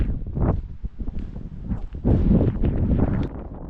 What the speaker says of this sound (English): Could probably do without wind